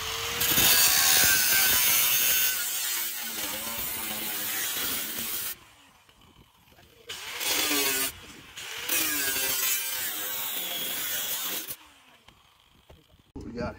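Power tool cutting through the sheet-metal fenders of a truck for tire clearance, a loud harsh grinding and rasping that runs in long bursts with short pauses, and a voice heard briefly between cuts.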